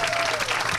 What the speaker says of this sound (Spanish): Un aplauso para Blas ahí